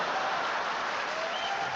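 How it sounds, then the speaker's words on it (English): A stand-up comedy audience breaks into applause, a dense continuous wash of clapping at steady loudness throughout. "And the crowd goes wild."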